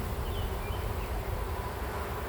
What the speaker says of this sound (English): I got bees crawling in the palm of my hand